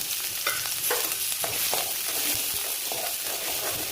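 Finely chopped onions fry in two tablespoons of hot oil in a pan, a constant crackling sizzle broken by repeated scraping strokes of a spatula, close and fairly loud, with no speech.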